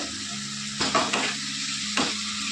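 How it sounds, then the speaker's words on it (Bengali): A spice paste for a Lailon tekka fish jhal is stir-fried in a pan over lowered heat, giving a steady close sizzle broken by a few louder scraping stirs of the spoon. "এবার আমি মশলাটাকে কষিয়ে নেব গ্যাসটাকে কমিয়ে দেবো"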